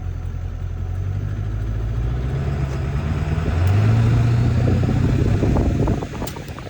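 Car engine with a torque converter running up through second, third and fourth gears, a steady low mechanical drone whose pitch rises and shifts between gears, close and loud with no talking.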